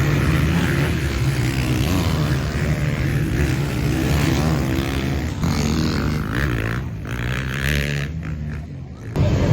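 Motocross bikes race at Schoolhouse MX in Consett during a British Championship MXGB MX1 race, a continuous loud engine roar with rising and falling revs from several machines close by, steady throughout.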